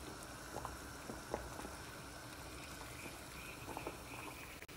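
Chicken simmering in a pot on the stove gives off a steady low bubbling and gurgling, with soft pops rising now and then, all fairly quiet and close, with no one talking.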